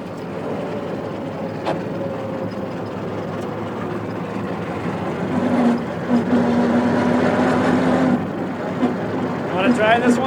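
A 1915 Hispano-Suiza car with an 18.5-liter V8 WWI aircraft engine runs near idle, a low steady rumble under ongoing conversation.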